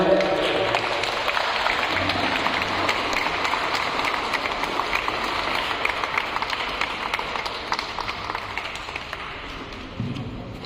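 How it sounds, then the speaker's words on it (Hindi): Sustained applause from guests at a Christian wedding at St. Mary's Cathedral, a dense steady patter of many hands clapping throughout, fairly loud and continuous with a slight swell near the end. "तालियां"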